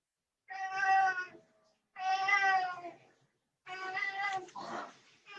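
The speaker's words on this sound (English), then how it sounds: "my cat is saying hello" A cat gives three clear, drawn-out meows, close and distinct, separated by short silences.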